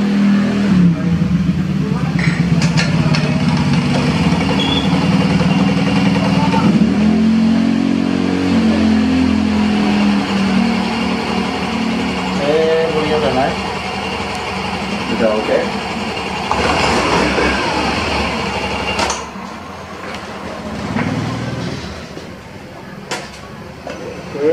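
A Yamaha Grand Filano scooter with a freshly serviced CVT is started and revved, its engine droning loudly and steadily, rising and falling as the throttle is blipped, close by.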